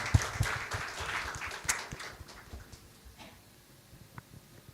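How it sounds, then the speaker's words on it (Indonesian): A church congregation at a Sunday service claps fairly softly, the scattered applause fading out over a few seconds. "berikan tepuk tangan."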